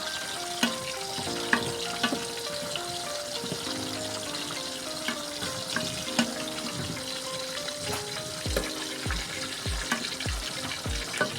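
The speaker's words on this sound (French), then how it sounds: "Et là, ma soeur continue à faire frire ses aubergines." Aubergines fry in a pan with a steady close sizzle, broken by scattered pops and crackles and a few soft knocks, with no voices.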